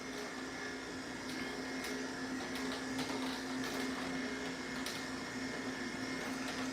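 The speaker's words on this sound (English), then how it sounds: "This is the Nama 2 juicer." Nama 2 juicer pressing pineapple, orange and ginger, a steady motor whine with a constant hum, moderate and continuous throughout with faint intermittent clicks.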